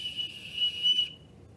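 A person whistles a steady, sustained high tone imitating a whistling teapot, a single clear note lasting about a second before cutting off.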